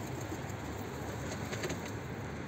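Soft, low cooing of pigeons murmurs steadily under a hissy outdoor background, faint and continuous without any talking.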